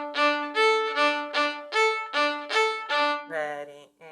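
Bowed string instrument, likely violins from a string ensemble, playing a rhythmic pattern of two sets of three and two sets of two with the B moved down to an A; eight sustained bowed notes in steady pulses, ending on a shorter lower phrase, no talk.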